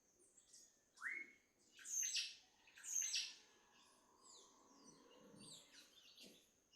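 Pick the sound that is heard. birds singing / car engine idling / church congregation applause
birds singing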